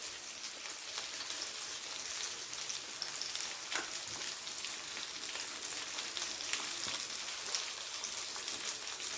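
Tomato frying in a pan with ground turmeric, coriander, cumin and Kashmiri chilli for a vegetarian eggplant dish, a steady close crackling sizzle with occasional stirring scrapes.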